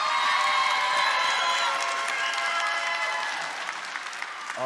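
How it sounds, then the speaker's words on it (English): Applause and cheering from a crowd at an 8th grade recognition ceremony, loud and sustained with whoops and shouts mixed in, easing slightly toward the end. "Let's give our 8th grade students a round of applause."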